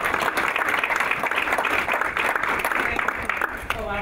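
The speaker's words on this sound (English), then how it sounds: "So I'll give her a round of applause." Audience applause in a Board of Education meeting: dense, steady clapping from a room of people that holds at full volume for the whole stretch, with a voice briefly audible near the end.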